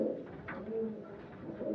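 Pigeons coo in low, rounded, repeated calls through a short, steady stretch, fairly close and with no voices, during winter feeding.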